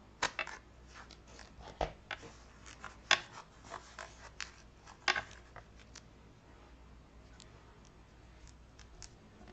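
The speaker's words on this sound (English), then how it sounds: "Go ahead and snip these in half too." Quiet, irregular snips of scissors cutting small craft pieces in half at close range, with sharp isolated clicks spaced apart and no talking.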